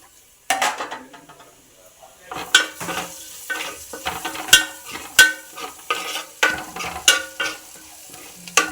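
Fish fries in a pan of hot oil with a soft sizzle, broken by repeated sharp clinks and scrapes of a utensil stirring and turning the pieces in an irregular rhythm, close up.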